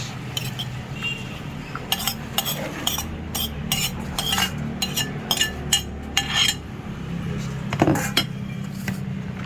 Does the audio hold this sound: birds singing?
no